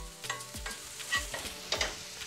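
A chopped mushroom and sausage filling sautés over low heat in a frying pan, with soft sizzling and several rhythmic scrapes of a utensil stirring it, with no talk.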